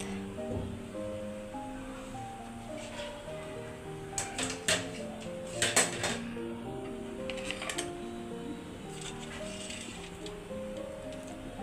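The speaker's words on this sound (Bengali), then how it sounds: "কারণ চুলার শব্দটা অনেক হইতেছে" Steady, low roar of a home cooking stove burner in a kitchen, continuous and fairly quiet, with faint talking and a few light clicks and clatters over it.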